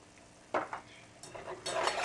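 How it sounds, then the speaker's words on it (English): A whisk stirs a flour-thickened sauce in a pan, giving short scraping strokes that build into steadier, louder whisking toward the end, close up with no talk. "And just whisk that until that gets a little bit thick."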